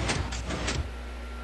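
Minecraft 3x3 redstone piston door opening, heard as several quick mechanical pushes in a row close together, followed by a steady low hum.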